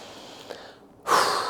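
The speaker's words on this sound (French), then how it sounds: "Une autre respiration." A deep breath taken during a yoga-style exercise: a quiet moment, then a loud, airy inhalation drawn in close to the microphone.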